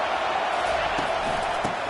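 A stadium crowd roars at a Virginia Tech college football game during a goal-to-go situation, a continuous wash of distant cheering and noise with no break.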